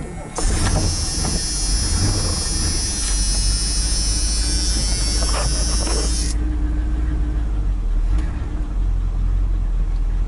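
A 1986 Chevy K10 truck revived after sitting nine years runs loud and close with a steady low rumble, a high whine fading out midway, as the engine settles toward idle.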